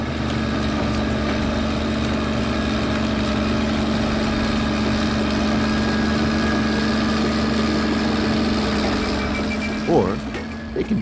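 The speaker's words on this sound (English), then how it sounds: "Bulldozers can also be used to clear land." A bulldozer engine idles at a steady low drone for about ten seconds, with a few faint knocks near the end.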